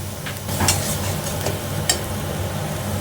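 Spoon stirring masala in a cooking pan with the spice-bowl rinse water added, giving a continuous soft sizzle with scraping swishes and a couple of sharper clicks, close and fairly loud.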